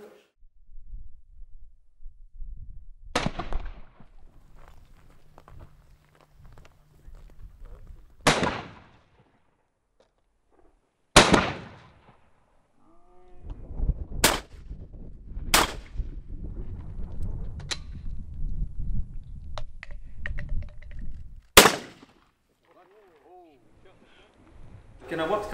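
Shotgun blasts at a national shooting centre: several sharp, loud reports spaced a few seconds apart, each ringing briefly, with people talking and outdoor bustle between them.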